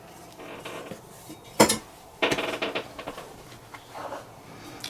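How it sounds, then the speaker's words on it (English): Parts come off a Hi-Point 1095TS 10mm carbine as the front rail and dust cover are removed: a few close metallic clicks and clacks, one sharp snap, then a quick cluster of rattling taps over quiet room tone. "So the front rail piece comes off on the top. Then the dust cover comes off."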